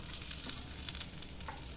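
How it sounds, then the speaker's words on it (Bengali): A taco shell frying gently in a pan gives a soft, continuous sizzle with faint crackles, low in level and steady over a brief moment. "একটু আলতো হাতে এটাকে ভেজে, এবার এটাকেও একটু এরমভাবে হতে দেবো।"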